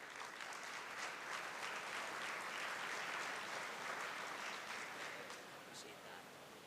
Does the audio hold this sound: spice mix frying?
no